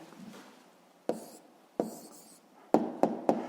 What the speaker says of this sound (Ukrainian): Так, записуємо відповідь, пишемо відповідь.